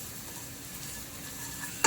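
Fried rice stirred in a small pan, a continuous soft sizzle ending in a short sharper clink.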